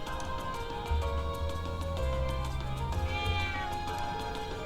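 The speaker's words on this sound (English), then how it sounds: "What a strange cat." A cat meows in the video game Trails of Cold Steel, giving a drawn-out, wavering call that rises and falls over steady background tones.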